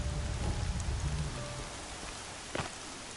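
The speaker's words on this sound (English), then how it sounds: "Raining like it's trying to wash everything away." Steady rain in the video game Horizon Zero Dawn, a constant hiss of downpour with a low rumble underneath, slightly heavier at the start, with one brief sharper splash or crack near the end and no talking.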